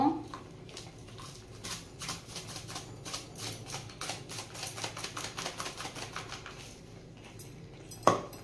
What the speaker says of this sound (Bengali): বিট নুন দিয়ে আবারও নাড়িয়ে নেব।